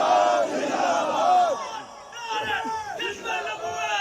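A crowd roars a 'zindabad' slogan in loud unison, with massed voices rising and falling across a couple of swelling shouted bursts.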